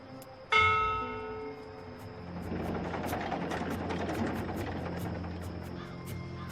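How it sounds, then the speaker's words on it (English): A ship's bell aboard a cloud ship in the video game Dreamfall Chapters is struck once, ringing out loudly and decaying slowly, while a rumbling engine-like drone swells up underneath. "this is a ship's bell"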